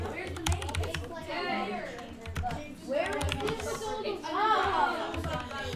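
Python code typed on a computer keyboard in Minecraft Education's Code Builder, with steady close key clicks in rapid runs while someone talks over them throughout.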